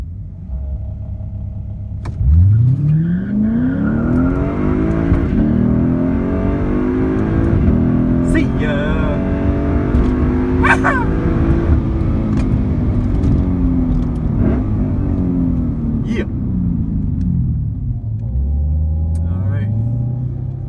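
A Lexus ISF and a Cadillac ATS-V launch at a drag strip, their engines climbing loudly through rising, falling revs and gear changes as they pull away, with crowd noise and a voice heard faintly in the background.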